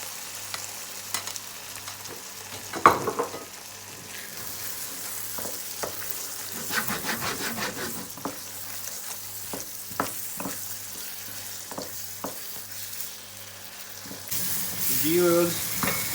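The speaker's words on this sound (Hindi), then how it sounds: "चने ऐड कर दिए और देखें मसाले में उसकी भुनाई हो रही है" Boiled black chickpeas are frying in a spiced masala in a pan, with a steady sizzle and repeated stirring scrapes over about sixteen seconds. The sound is close and moderately loud, and there is no talk.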